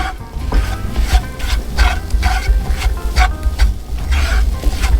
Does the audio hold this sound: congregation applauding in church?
no